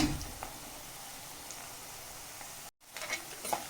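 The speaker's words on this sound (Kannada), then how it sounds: "ಇವಾಗ ಆನಿಯನ್ ಇಷ್ಟು ಫ್ರೈ ಆದರೆ ಸಾಕು." Onions frying in a pan, a soft steady sizzle with faint stirring, close and alone, with a brief drop to silence near the end.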